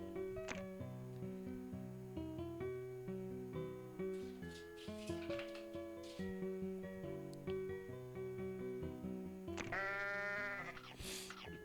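Goat bleating in a Minesweeper-style video game, a short bleat cutting through steady looping game music, heard quietly near the start and again louder toward the end.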